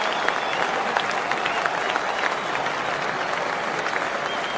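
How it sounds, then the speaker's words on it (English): A packed cricket ground at an MCC vs Rest of the World match erupts as Sachin Tendulkar departs and Brian Lara walks out to bat, a loud, sustained wash of applause and cheering holding steady throughout. "now listen to the roar as this man comes to the crease"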